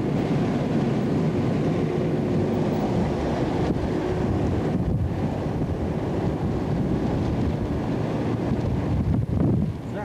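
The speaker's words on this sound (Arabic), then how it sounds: "عامل هواء" Strong wind gusts across an outdoor spot, roaring steadily into the microphone as a dense, loud rumble for the whole stretch, with no speech.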